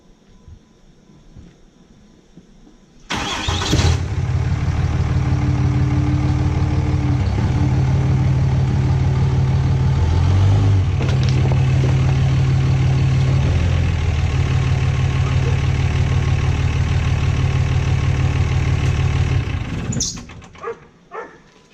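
A 5.9 Cummins diesel truck engine starts abruptly and idles with a loud, steady clattering drone for about sixteen seconds, briefly surging once midway, then shuts off, heard close with faint background noise before and after.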